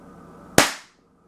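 One sharp, close pop as a tiny airsoft pistol with a barrel about a centimeter long fires a single BB, the snap decaying quickly into silence.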